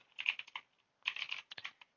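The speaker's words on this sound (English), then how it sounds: "you're gonna open up the console and type in SSH," Fingers typing an SSH command on a computer keyboard, a quick run of clicky keystrokes in two bursts separated by a short pause, close and clear with no talk.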